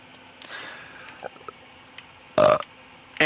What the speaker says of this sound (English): Well, that was a horrible burp.